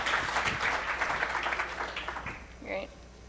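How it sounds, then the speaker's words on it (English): A conference audience applauds the chairman, with brisk clapping filling the first couple of seconds before thinning out, followed by a short voiced sound near the end. "we'll give you a round of applause"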